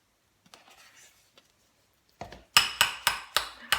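A spoon stirs hot food in a pot for a breakfast dish, first a few soft faint scrapes, then a run of sharp, rhythmic metallic clinks against the pot about every quarter second, close and clear.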